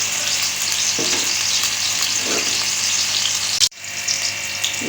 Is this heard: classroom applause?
no